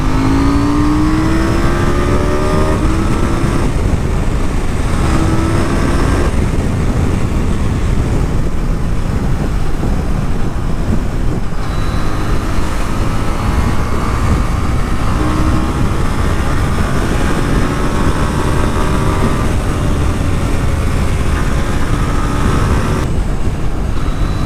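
A KTM Duke 790 motorcycle with traction control switched off pulls hard in third gear on a rough, patched road, its engine note climbing in several strong surges under steady wind roar.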